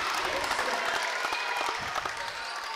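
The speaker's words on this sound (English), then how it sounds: "we hear the Victorian crowd start to get into this thing" Victorian basketball crowd at an under-20 men's grand final, cheering and clapping in a dense, continuous roar that fills the arena and eases slightly toward the end.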